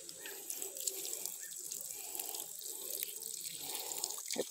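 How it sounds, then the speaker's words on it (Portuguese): Water leaking from a hydraulic ram pipe, a soft trickling and splashing close by that runs in uneven bursts, quiet throughout, with a sharp knock or drip right at the end. "Aqui tá vazando a água."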